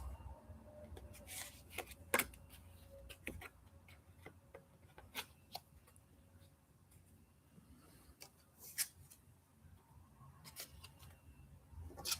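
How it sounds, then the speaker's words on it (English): Tarot cards handled and put away: scattered light taps, shuffles and clicks at irregular intervals, quiet and close in a still room. "We put the cards away."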